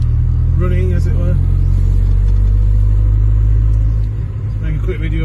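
Chevrolet Captiva car engine running at idle, a loud steady low rumble throughout that dips briefly near the end, with some faint tonal sounds at the start and end.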